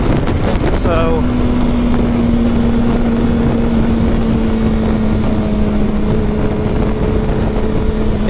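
A Ducati 1199 Panigale S sport motorcycle ridden on an open road, its engine holding a steady loud drone with a brief rev change at the start, wrapped in heavy wind rush against the microphone.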